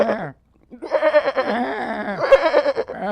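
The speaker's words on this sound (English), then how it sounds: "We gotta get it. A sheep." A person gives a close, loud sheep impression, a brief bleat, a pause, then a long wavering 'baa' with a quivering throaty tremble.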